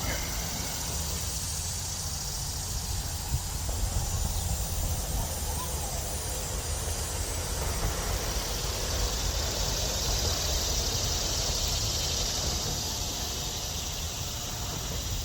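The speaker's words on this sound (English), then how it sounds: "you can probably hear the cicadas in the background" A steady, high-pitched cicada drone fills the background continuously over a low outdoor rumble, with no clear pauses, outdoors in the Chattanooga area.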